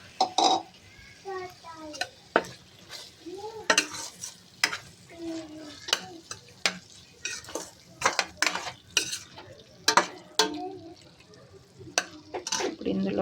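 A spoon repeatedly scrapes and clinks against a pan while masala mushroom curry is stirred after coriander powder and garam masala go in. The strokes are close and irregular, with a soft sizzle underneath.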